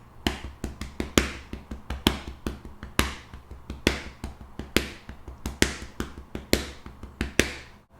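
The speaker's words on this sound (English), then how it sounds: "instead of clapping, I'm going to switch to tapping out the pattern on my chest" Open hands tapping a continuous five-stroke sixteenth-note sticking pattern on the chest, close and dry, sharp muffled slaps in an even steady stream with slightly stronger accented strokes recurring.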